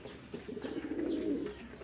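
Homing pigeons coo softly and repeatedly at close range, a low throaty burbling that swells in the middle and continues to the end, with faint chirps over it.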